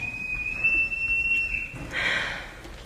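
Whistle blown on stage during a high school production of The Sound of Music, a single sustained shrill tone lasting about a second and a half, followed by a brief fainter trill, heard at moderate distance in a hall.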